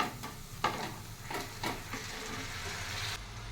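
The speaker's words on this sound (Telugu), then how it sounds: "మంచిగా ఇట్నే కలుపుకుంటూ ఉడికించుకోవాలి" A spoon stirs water amaranth leaves with chili powder in a pan, soft scraping strokes at an uneven rhythm over a faint steady sizzle, close by with no talk.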